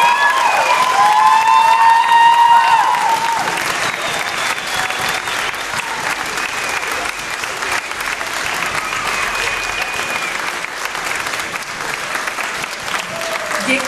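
A concert audience applauds the conductor of an amateur orchestra, with whistles and cheers rising over dense clapping at first, then steady, full applause filling the hall for several seconds.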